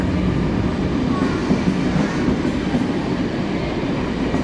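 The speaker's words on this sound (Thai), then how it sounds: "รถไฟมาแล้วนะครับ" A double-decker train in Switzerland rumbles steadily close by as it pulls into the station, a continuous low mechanical roar with faint rail clatter and no talking.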